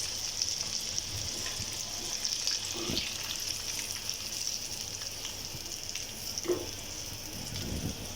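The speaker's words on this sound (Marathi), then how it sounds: "छान असं फ्राय करून घ्यायचं आहे।" Chicken liver frying in a pan, a steady, even sizzle and crackle that holds throughout at moderate level, with a few soft stirring knocks and no speech.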